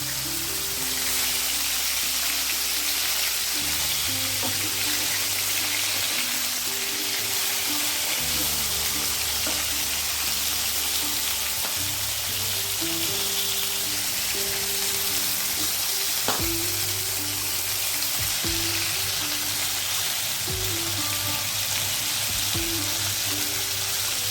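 Pieces of lote fish fry in oil in a pan with a loud, dense, continuous sizzle that holds steady throughout, with an occasional faint clink of a utensil.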